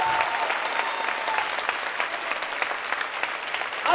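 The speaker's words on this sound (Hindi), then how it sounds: "ताली जोरदार बजाया करो," Audience applause at a business training seminar, a loud dense burst of many hands clapping sustained evenly for several seconds with no speech over it.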